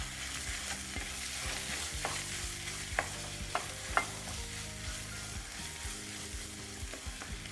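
Coriander powder, chili powder and green chilies are stirred into a frying paneer burji mixture in a pan, with a soft, even sizzle under repeated gentle spatula scrapes and taps.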